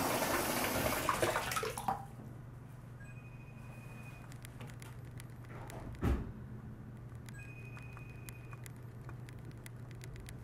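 Water pours steadily into a bathtub during a leak test, a faint continuous rush and patter with a louder gush at the start and a brief knock midway.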